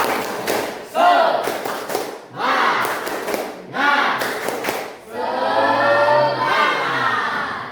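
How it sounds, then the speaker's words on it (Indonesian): An Indonesian classroom of children doing a spirit clap, sharp patterned claps in bursts with group shouting mixed in, building into a sustained loud cheer at the end. "Tepuk semangat"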